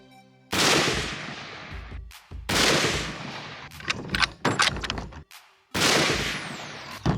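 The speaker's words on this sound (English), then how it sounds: "We're gonna be taking 3 shots with this Hornady American Whitetail." Rifle shots fired with Hornady American Whitetail ammunition at an outdoor range, three loud, close reports spaced a couple of seconds apart, each with a long ringing echo and some clatter between them.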